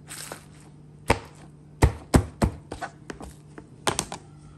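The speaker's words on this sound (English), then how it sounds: "Now I'm just going to beat the scallion." Scallion being beaten and pressed on a board in a home kitchen while cooking Sunday dinner, a series of sharp separate thumps coming in irregular bursts, close and fairly loud with a low steady hum beneath.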